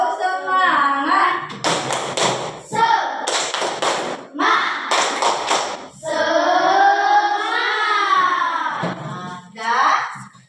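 An elementary class of children claps in rhythmic bursts of the tepuk semangat chant, sharp group clapping alternating with sung chanting voices, close and loud.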